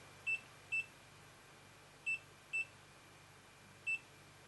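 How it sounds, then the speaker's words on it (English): An EMF meter beeps in short, clear electronic tones, five separate beeps at uneven intervals against a quiet background with no speech. "my EMF's going off for some reason"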